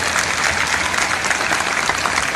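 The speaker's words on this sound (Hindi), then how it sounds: "इन कलाकारों के लिए तालियां हो सकती है" Steady applause from an audience for student dancers performing at a senior secondary school's annual function, a continuous wash of clapping with no break across the whole stretch.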